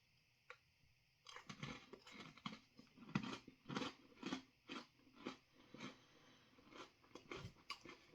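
Repeated crunchy bites and chewing of an ice cream Fire Bar, close and distinct, in a loose rhythm of about a dozen crisp crackling chomps with quiet gaps between.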